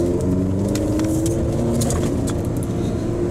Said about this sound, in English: I'm just not a big fan of the exhaust note that comes out of it. It just feels like a four-cylinder